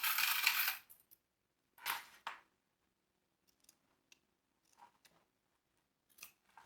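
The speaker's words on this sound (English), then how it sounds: "I like to cut my bias tape at an angle" Scissors snip through fabric bias tape on a sewing project, cutting it at an angle: a loud crisp cut at the start, another sharp snip near two seconds, then faint small clicks and rustles of handling alone.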